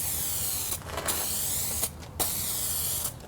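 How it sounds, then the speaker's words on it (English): Spray gun laying 2K clear coat onto a car headlight: a steady, close, loud hiss that runs throughout, broken by a few brief pauses or dips between passes. "now we're going to start spraying, and we're going to do 1 light coat followed by 3 medium coats"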